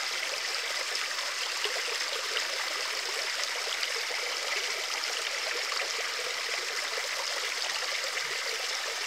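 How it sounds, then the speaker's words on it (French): Water from a closed-circuit garden pond system flows down a stepped cascade in a steady, bright, continuous rush and trickle, close and unbroken, with no voices. "Là on a bien la cascade."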